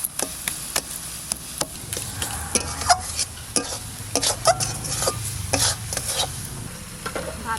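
Chopped wild taro leaves cook in a pan over a village fire while a spatula stirs and scrapes, giving irregular sharp clicks and taps over a soft sizzling bed.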